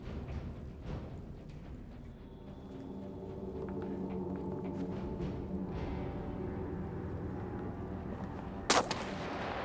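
Sniper gunfire in the war survival video game This War of Mine, a low rumbling backdrop of distant booms with a single sharp, loud shot cracking out near the end.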